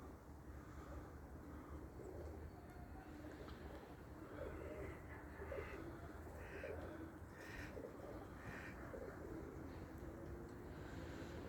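Faint, soft pigeon cooing repeats off and on over a steady low outdoor rumble, distant and quiet throughout.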